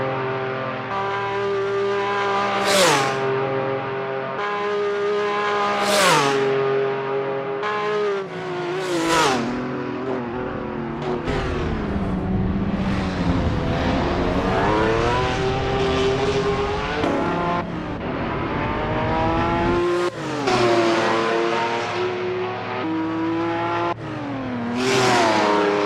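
Historic race cars in the Assetto Corsa racing game, a loud engine note rising and falling through repeated gear changes and revving, with other cars whooshing past at intervals.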